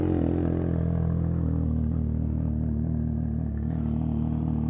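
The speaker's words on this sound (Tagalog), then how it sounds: "Ngayon, magpapainit na ako ng motor." A CFMoto 675 SR-R sport motorcycle with an aftermarket exhaust idles steadily up close while warming up, a constant rumbling drone with slight clatter and no voices.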